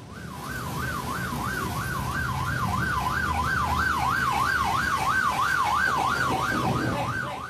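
A wailing siren on an official car rises and falls in a rapid, steady cycle, loud and close over the rumble of traffic, with no voices.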